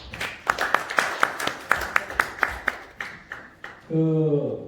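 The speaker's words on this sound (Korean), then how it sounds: "우리 이재범 교수님께 다시 한번 큰 박수 부탁드립니다" Audience claps for a professor after a lecture to university freshmen, about a dozen separate, fairly loud claps in a loose rhythm. A voice follows near the end.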